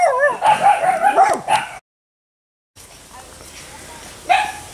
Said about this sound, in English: some of the neighbors are moving their cows by, stirred the dogs all up